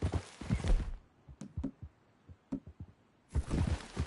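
Horse hooves clip-clop in the video game Red Dead Redemption 2, a handful of sharp, spaced footfalls between bursts of louder mixed game sound at the start and end.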